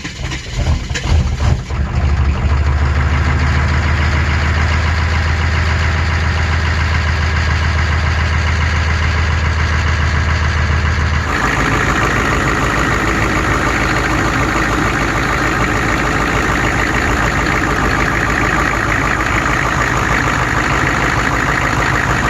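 Cold start of a 6.5 litre turbo diesel engine, a brief cranking clatter that catches and settles into a loud, steady, knocking diesel idle that runs on evenly up close.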